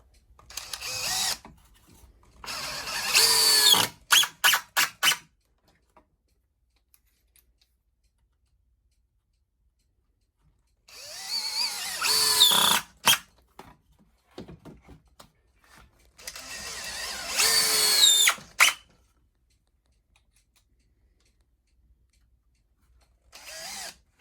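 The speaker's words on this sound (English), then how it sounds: "Just screw it together." Cordless power drill driving screws to assemble a wooden DIY miter box: several separate bursts of whirring, each ending in clicking ratchet ticks, close up with quiet gaps between.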